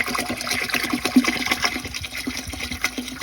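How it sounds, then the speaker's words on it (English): Two quarts of boiling water pour into a pot for a doubled recipe, a close, continuous splashing gurgle that rises and falls unevenly. "the last thing we're going to add is a quart of boiling water"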